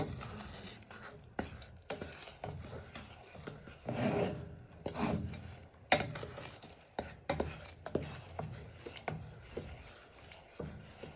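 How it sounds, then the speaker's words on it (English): Butter and Demerara sugar are stirred together in a pan for chocolate flapjacks, with close, irregular scraping and rubbing strokes of a spoon repeating over several seconds. "Just give this a stir for a minute or two."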